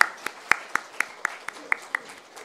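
A church congregation gives a brief, hesitant patter of applause, about ten separate sharp claps spaced at a steady beat, fairly close and quiet, with no voices.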